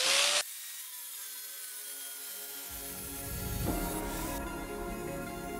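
A power tool cuts off the end of a length of rebar, starting with a loud burst and then settling into a steady, sustained whine that grows louder partway through.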